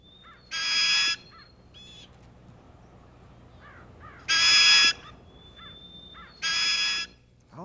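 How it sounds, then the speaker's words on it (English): Three loud, harsh raspy cries from a young crow-family bird, each about half a second to a second long, separated by quiet pauses with faint chirps. "Now that call was the hunger cry of a baby bird."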